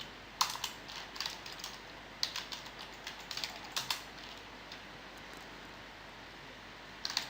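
Scattered bursts of typing on a computer keyboard while a Java command is entered at a command line, a few quick keystroke clusters separated by pauses over a quiet background.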